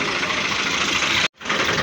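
Tractor engine running steadily on a farm, loud and close with a rough mechanical clatter, cutting out briefly near the end before resuming.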